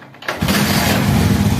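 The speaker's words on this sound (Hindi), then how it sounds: "मैं बाइक स्टार्ट करता फिर पता लगेगा हमें" A motorcycle engine cranks briefly and then catches, settling into a loud, steady close-up idle.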